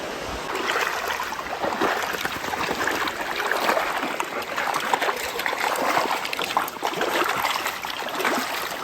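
Creek water trickles and burbles close by in a shallow stream, an uneven, bubbling flow with small splashes rising and falling, no one speaking.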